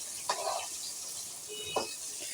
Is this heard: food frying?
yes